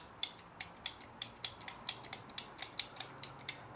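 A PEX tool ratchets a hose clamp tight on a window cleaning hose setup, about fifteen quick, evenly spaced metallic clicks, close and crisp against a quiet background.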